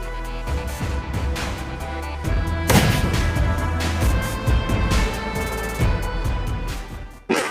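Firecracker set off inside a silver barrel outdoors in a village, a sustained roaring blast with crackling bangs and ringing metallic resonance lasting several seconds, close and loud, then cutting off abruptly.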